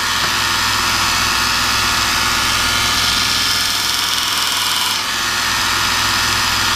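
Power sander working on Buck 110 knife scales, a loud, constant buzzing whir with steady vibration, close by and running the whole time without talk.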